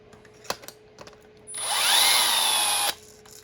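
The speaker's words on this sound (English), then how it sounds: "this is my electronic screwdriver." An electric screwdriver whirs in one sustained, loud high-pitched burst of about a second and a half, with a slight pitch change as it runs. Faint clicks and taps come before it and after it stops.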